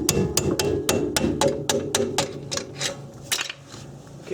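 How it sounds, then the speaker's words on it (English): A rubber mallet strikes a rusted Acura or Honda lower control arm fork over and over during suspension work, about a dozen sharp knocks in a steady rhythm, loud and close, with no talking. "Then I'm taking a rubber mallet."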